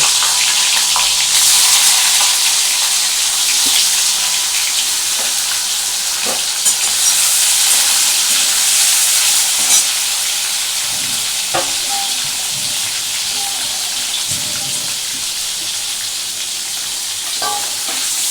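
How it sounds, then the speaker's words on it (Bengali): Paneer pieces fry loudly in a hot pan for a malai paneer dish, a dense, bright sizzle that swells as they go in, with occasional stirring taps, close and continuous. "এই পনিরগুলো আমি এর মধ্যে দিয়ে দেবো"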